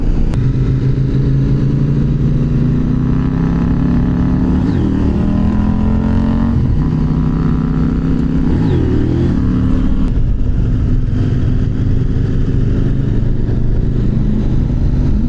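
A motorcycle rides along a beach road near Baler, its engine droning loud and close with steady wind rush and several rising and falling revs as it accelerates and shifts.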